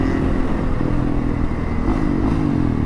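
A motorcycle engine runs loud and close in a steady, throaty drone for about three seconds, holding its note with slight swells but no clear rise or fall in pitch.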